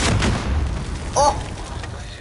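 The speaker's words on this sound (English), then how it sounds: "You took that entire rocket to the face" Rocket explosion in Call of Duty Modern Warfare, a low booming blast rumbling under steady game noise, with a brief sharp crackle near the middle.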